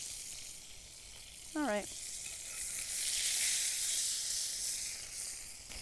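Foie gras sizzles steadily in a frying pan, a loud broadband frying hiss that swells through the middle, with a brief spoken remark early on.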